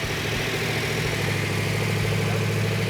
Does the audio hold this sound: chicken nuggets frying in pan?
no